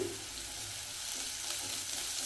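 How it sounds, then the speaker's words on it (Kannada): Green chilli paste frying with onions for beetroot palya, a dense steady sizzle close up with faint stirring, brief and continuous. "ಅದು ಈರುಳ್ಳಿ ಜೊತೆ ಫ್ರೈ ಆಗಬೇಕು. ಚೆನ್ನಾಗಿ ಫ್ರೈ ಮಾಡ್ಕೊಳ್ಳಿ."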